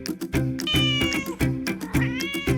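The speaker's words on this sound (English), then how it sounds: "That's right. It's a cat." A cat meows several times in close succession, clear and prominent over a rhythmic backing music track.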